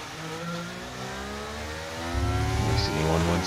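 Race car engine in the F1 23 video game at the Canada circuit, a steady high-pitched whine with shifting harmonics as the car is driven back to the pits, growing louder and heavier toward the end.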